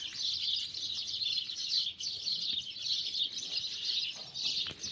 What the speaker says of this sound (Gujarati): ચકલિયું અવાજ સંભળાતો હોય ચકલીનો